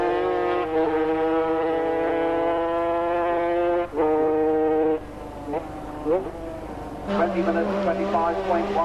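A racing motorcycle engine firing up at a pit stop and pulling away: a buzzing, strongly tonal drone that holds, then rises and sweeps in pitch as it leaves, under steady commentary.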